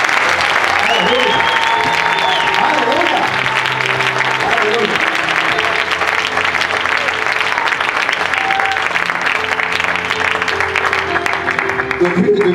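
A congregation at a French-language church conference applauds and cheers, a loud, dense, unbroken wash of clapping with shouting voices mixed in throughout.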